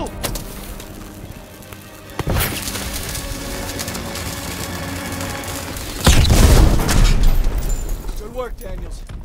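A thermite charge blows in a Normandy battle in Call of Duty WW2, a loud close blast followed by a heavy rumbling second explosion and crackling debris, with shouted voices in the mix.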